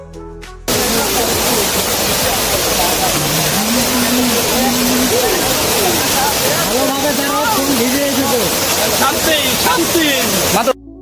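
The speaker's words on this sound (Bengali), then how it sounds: "তো কিছুক্ষণ যাওয়ার পরে আমরা ঝর্ণাটা পেয়ে যাই।" A hillside waterfall on the trail to Chandranath hill in Sitakunda roars as a loud, steady rush of falling water, with voices talking over it.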